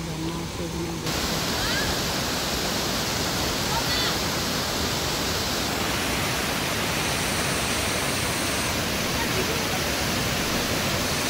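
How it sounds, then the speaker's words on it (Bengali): Small hillside waterfall at Teen Dhaiya, a constant close rushing roar of falling water that stays steady and loud from start to finish. "তারপর এখানে একটা ছোট্ট ঝর্ণা আছে"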